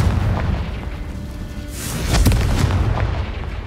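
The Confringo spell from the video game Hogwarts Legacy goes off, a single deep booming explosion with a crackling burst, loud and close, over a rumbling game background.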